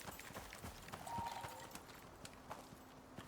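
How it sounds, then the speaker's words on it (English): Quiet clip-clop of deer hooves in the game Icarus, a short, faint sequence of footfalls over a low ambient bed, no voices. "It was a deer!"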